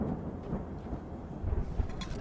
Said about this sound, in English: the audio is quite good with the storm sounds and everything